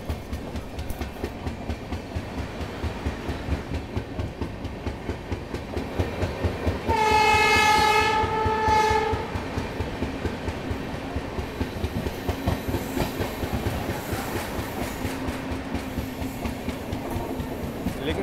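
The Mysore–Chennai Shatabdi Express runs along the rails with a steady rhythmic clickety-clack, and partway through a train horn sounds for a couple of seconds before the running noise carries on.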